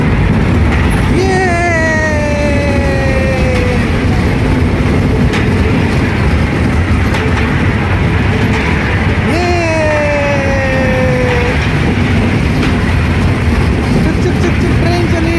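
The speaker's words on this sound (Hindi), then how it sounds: "चुप ट्रेन चली है, चुप।" A small fun-fair ride train runs at a fair, with a steady rumbling roll and a couple of high, tonal whistle or horn sweeps, while people talk nearby throughout.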